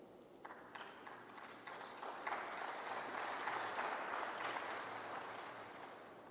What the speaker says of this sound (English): If you are tired of clapping, you just say so I can make a shortcut.